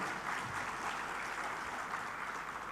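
A conference audience claps at a summit in Bali, a soft, steady patter of many hands heard from a distance with no voices over it.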